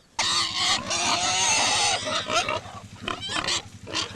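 Pigs grunt and squeal in a rapid, noisy jumble, loud and close, with short oinks breaking up toward the end.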